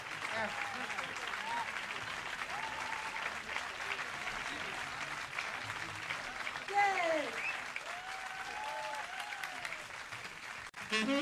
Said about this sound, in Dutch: ik zou voor hun afzonderlijk allebei één groot applaus willen hebben